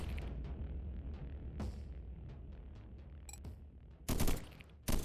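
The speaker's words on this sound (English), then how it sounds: "I want to see if these shotguns were worth the effort" Shotgun blasts in a swarm-survival strategy video game, with a low rumbling game backdrop punctuated by a sharp burst near the middle and two loud, dense blasts at the end.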